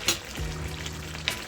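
Jamaican stew chicken with soy and mushroom sauce is stirred in a pot: a spoon scrapes and clacks against the pot twice over a soft, continuous simmering hiss.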